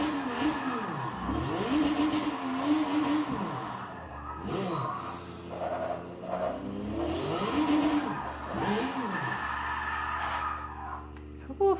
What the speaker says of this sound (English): I'm not trying to drift in a complete circle. It just doesn't want to drift how I want it.